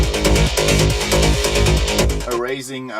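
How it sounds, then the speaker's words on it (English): A rising atmospheric synth sweep in a dance track, loud and full, with a steady beat under sustained pads for most of the span before the sound thins into a swelling, gliding tone at the end. "some atmospheric sounds in the beginning and also in the end, like this one here, sounds like this."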